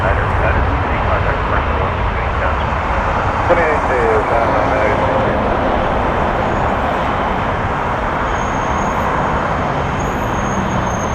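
Air Canada airliner at Toronto Pearson airport, a steady broad engine roar that fills the whole stretch at constant loudness, with a voice talking over it.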